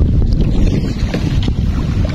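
Strong wind roars steadily into the microphone, a constant low rumble with gusty buffeting and no voices.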